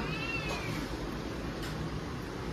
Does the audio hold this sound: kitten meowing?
yes